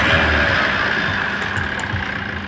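A Tata Safari Storme SUV engine runs steadily, a loud continuous drone with an uneven low rumble and no voices.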